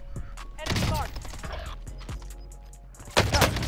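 Call of Duty Warzone gunfire, with a loud close burst of shots, a quieter stretch and then another sharp volley, all set against a constant low background rumble.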